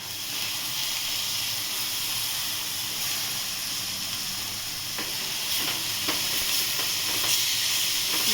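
Mung and moth beans sauté in a hot pan, giving a steady, close sizzling hiss with a few faint scraping stirs near the end.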